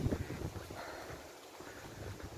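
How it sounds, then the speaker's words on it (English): Strong wind gusting across an open hiking trail along the Pennine Way near Hadrian's Wall, a steady broadband rush buffeting the microphone close up, with no voices. "It started to get very, very windy"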